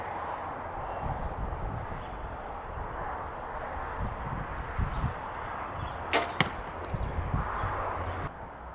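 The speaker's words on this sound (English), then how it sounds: "So let's just take a bit of a practice shot." A hunting bow is shot outdoors: a single sharp snap and thwack as the arrow is released, standing out briefly from a steady background rumble of wind or distant noise.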